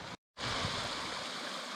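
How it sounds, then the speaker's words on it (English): A small waterfall and stream on the Kinder plateau rush close by as a steady, dense roar of water, cut by a brief dropout near the start. "Just climbing above a little waterfall here"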